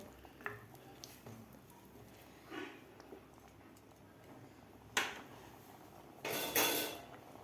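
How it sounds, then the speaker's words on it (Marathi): A spoon mixing pea rice with lemon juice in a pressure cooker pot, heard as soft scraping and a few clanks of metal against metal, louder toward the end. "लिंबाचा रस घातल्यानंतर व्यवस्थित आपल्याला मिक्स करून घ्यायचं आहे."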